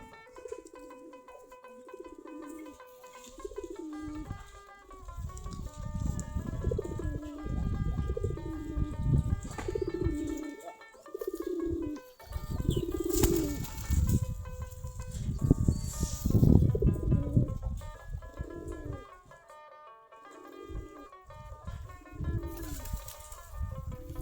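Pigeons coo in repeated low throaty phrases close by in a loft, several birds overlapping in a steady rhythmic chorus with occasional wing flutters and faint clucking.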